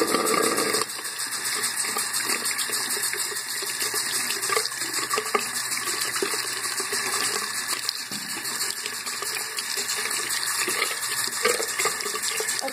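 A tap runs steadily while water is warmed for a baby's bath, giving a continuous, fairly loud gushing stream close by that lasts throughout without a break.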